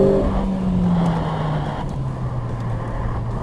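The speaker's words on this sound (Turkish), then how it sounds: "6500'lerin civarında üst vitese geçiyor" A Renault Clio RS with EDC gearbox revs hard to about 6500 rpm, then its pitch drops steadily as it shifts up a gear, droning on close and loud.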